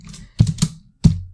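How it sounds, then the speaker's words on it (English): Keystrokes on a computer keyboard while entering JavaScript form-validation code, several close, crisp clicks in a short uneven burst and then a final louder tap, with no voices. "Why am I typing the whole thing?"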